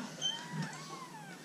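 Kitten on a farm in Denmark, mewing faintly with a thin, wavering cry through steady background noise.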